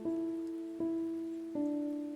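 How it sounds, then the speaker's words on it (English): Rain falls in a video game as three distinct resonant tones strike at even intervals about three-quarters of a second apart, each ringing out over a soft, steady background, with no voices. "Have you had enough of this rain?"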